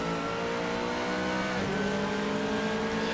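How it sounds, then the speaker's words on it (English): Porsche 911 RSR race car engine in the Assetto Corsa racing game, a steady, continuous droning howl that holds at a near-constant pitch throughout, loud and close with no voices. "Sitting and admiring the beautiful sound of the 911 RSR as well"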